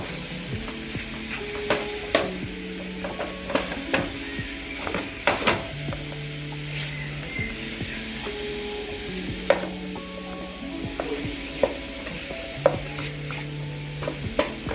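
Moist portobello mushrooms sizzle in a pan while being turned and stirred, with repeated scraping and clinking of a utensil against the pan over a steady frying hiss.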